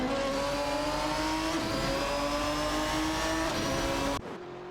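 Maserati MC12 GT1 and Ferrari 575 GTC race cars in a racing video game howl at high revs in a sustained, steady engine whine that cuts off abruptly near the end.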